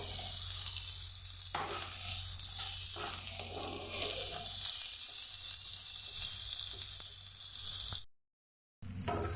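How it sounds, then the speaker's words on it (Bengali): Potatoes frying in oil for a Bengali banana-flower curry, a continuous close sizzle with occasional stirring scrapes and faint running water in the background, ending in a short silence. "আলুটা আমার ভাজা হয়ে গেছে।"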